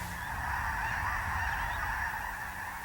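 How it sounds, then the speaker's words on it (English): A huge flock of thousands of geese honks in Saskatchewan, a dense, continuous clamor of overlapping calls that fills the air steadily and loudly throughout. "in the next instant the skies become alive with thousands of birds"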